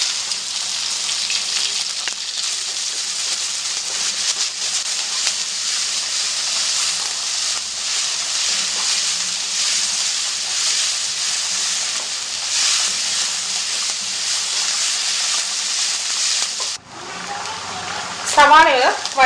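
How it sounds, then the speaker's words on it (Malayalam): Onions sautéing in coconut oil in a kadai, a steady broadband sizzle running loud and continuous, then briefly dropping near the end as something is shifted and a few sharper scraping sounds break through. "അതേ കടായി വരെ കുറച്ചുകൂടെ വെളിച്ചെണ്ണ ഒഴിച്ചിട്ട് നമുക്ക് ആ ഉള്ളി വഴട്ടാം."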